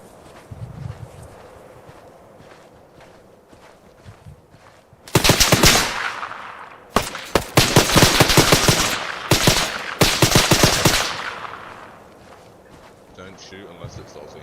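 Automatic gunfire in the video game ArmA 3, loud close bursts of rapid shots in several volleys separated by short gaps, following quieter background with voices talking.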